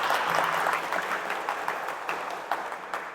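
A church audience claps and applauds, a steady wash of many hands that gradually thins and fades toward the end.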